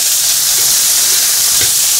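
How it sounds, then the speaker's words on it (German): Meat frying in a hot pan gives a steady, close sizzle and hiss that runs the whole time, with a few soft crackles and no voices. "nur das Fleisch in die heiße Pfanne gibt."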